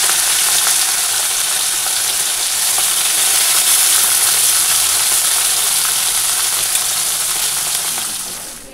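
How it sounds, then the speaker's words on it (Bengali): Vegetables frying in hot oil with turmeric in a home kitchen pan, a loud, continuous close-up sizzle and hiss that holds steady for several seconds, with faint stirring. "তেলে একটু হলুদ দিয়ে দিয়েছি। একবারে ভেজে নেব সব।"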